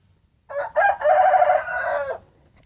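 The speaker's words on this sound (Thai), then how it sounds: "อาจจะได้ยินเสียงไก่ขันนะครับเพราะบ้านผมเลี้ยงไก่นะครับ" A backyard rooster crows once, loud and close, a drawn-out call of about two seconds in otherwise quiet surroundings at a home that also keeps ducks.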